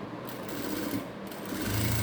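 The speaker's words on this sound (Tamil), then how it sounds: "ஒரு ஸ்டிச் போட்டுட்டு வரோம் நம்ம நேராக" A sewing machine stitches a straight seam through lining and dress material, giving a continuous close mechanical whir that builds slightly toward the end.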